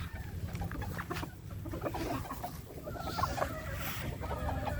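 Laying hens in a backyard flock cluck and murmur close by in a busy, overlapping chorus, with a few louder calls rising above the steady clucking.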